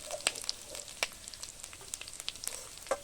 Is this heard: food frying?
yes